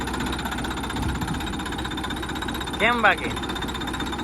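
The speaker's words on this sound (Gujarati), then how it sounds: "ટ્રેક્ટર ખાલી ઉપડે ને એનો અવાજ સાંભળજો જોજો ખાલી ખાલી કેવો આવે" A tractor engine runs with a steady, rough, knocking throb, close and continuous, while someone briefly speaks over it near the end.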